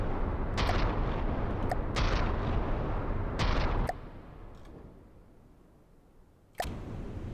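Weapons firing in the naval combat game From The Depths: a few sharp booming shots over a dense rumbling roar that fades to quieter background before another loud blast returns.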